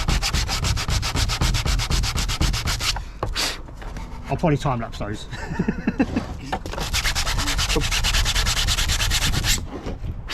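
Parts for a life-size 1:1 scale R2-D2 replica being sanded by hand, with rapid rhythmic rasping strokes close up; a pause mid-way carries brief speech before the scrubbing resumes steadily.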